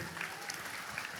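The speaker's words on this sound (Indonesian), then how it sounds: "Mas Faiz, tepuk tangan dulu dong." Applause at a philosophy study gathering led by Dr. Fahruddin Faiz, a dense, low-level patter of clapping from an audience that runs steadily through the whole moment without a clear break.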